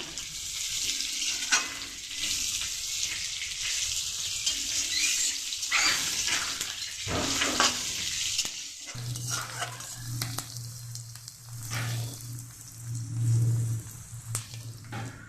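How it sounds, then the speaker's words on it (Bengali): Chopped onions frying with cumin seeds in a pan, giving a steady close sizzle broken by repeated stirring scrapes, with a low hum joining in the second half. "আমার পেঁয়াজ ভাজা হয়ে গেছে"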